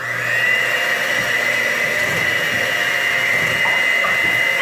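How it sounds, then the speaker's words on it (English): Steady electric whisking of meringue mixture, with sugar being beaten in until it dissolves. A continuous high motor whine with a few faint knocks carries evenly throughout, and no one speaks. "whisk until there's no more sugar"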